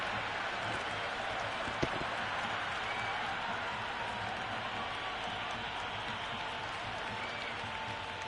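A T10 cricket crowd at an India versus New Zealand match applauds and cheers in a continuous, dense wash of clapping that stays steady and somewhat distant, with one brief sharp knock partway through.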